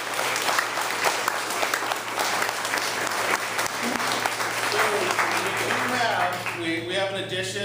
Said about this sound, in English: Round of applause for our